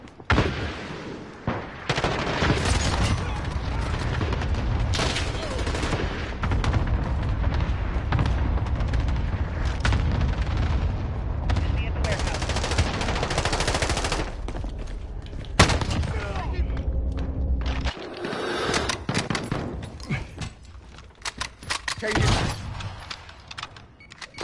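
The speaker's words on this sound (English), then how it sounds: "Allied cluster strike inbound." Call of Duty Modern Warfare gameplay during an allied cluster strike, with a dense, continuous roar of rumbling explosions and gunfire that breaks off abruptly, followed by scattered bursts and sporadic shots, with voices talking over the action.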